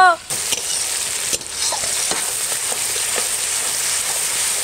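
Mutton curry with melted tomato sizzles steadily in a hot pan at an outdoor winter picnic, with a spoon stirring through it. The frying is loud and continuous, and a few scrapes and knocks stand out.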